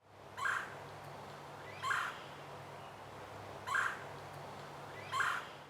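Four loud, burst-like trilled calls from a gray tree frog come at roughly regular intervals, close by, over a steady low outdoor hum with no talking.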